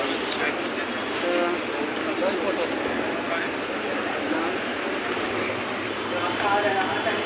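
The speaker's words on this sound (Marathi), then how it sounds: "मित्रांनो बघा मेट्रो आलेली आहे" A metro train rolls into a station with a steady rumble and hiss, surrounded by the constant murmur of a crowd.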